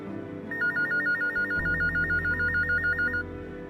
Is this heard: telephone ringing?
yes